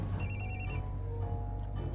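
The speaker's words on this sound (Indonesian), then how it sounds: "ada telepon" A telephone rings in an Indonesian TV drama scene as a short burst of high, warbling electronic pulses, clear but not loud, then it stops and low background hum carries on.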